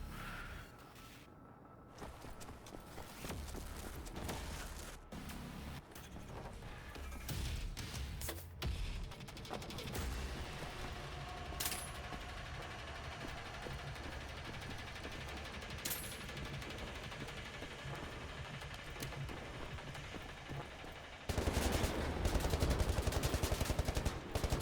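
Scattered gunshots and firefight noise from a gun in Wolfenstein: The New Order, a few sharp cracks over a dense, continuous game soundscape, with a louder rumbling swell near the end.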